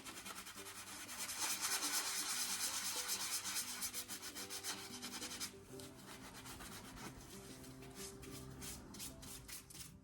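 A cast paintable stone is rubbed smooth to take down fine pinholes, making a steady close scratchy sanding sound in quick strokes that eases off and becomes lighter and more spaced partway through, no talk.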